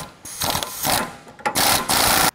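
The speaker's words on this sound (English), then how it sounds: "Now we're just gonna tighten our sway bar link to our sway bar." On a Toyota Tundra, a 21mm socket and 22mm wrench tighten a sway bar link bolt, making short bursts of close metallic ratcheting and clicking with brief pauses between them.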